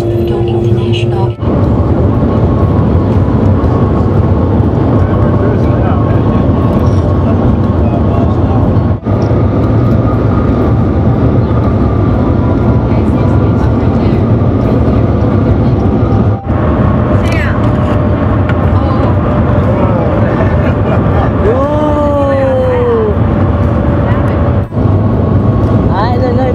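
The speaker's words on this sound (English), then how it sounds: "welcome to take Shanghai Magnet train now." Steady, loud cabin rumble aboard the Shanghai maglev train heading to Pudong International Airport, a constant smooth drone with a few faint tonal chirps and occasional clicks, under a passenger announcement voice.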